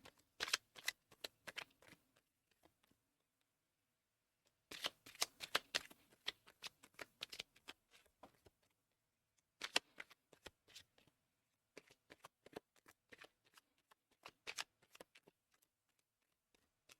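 Playing cards are shuffled and laid out in bursts of crisp riffling and snapping, with short pauses between, close and quiet, with no talking.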